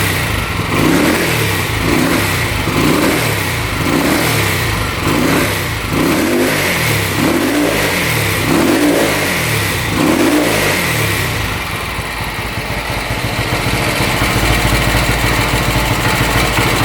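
A 1970s Harley-Davidson motorcycle engine, seized by police and sold at auction, revs repeatedly in loud, close bursts, then settles into a rough, steady idle.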